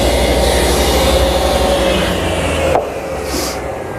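A router cuts slots into a plywood jig, a loud, steady high-pitched motor whine with woody cutting noise that drops off sharply near the end, leaving a quieter hum.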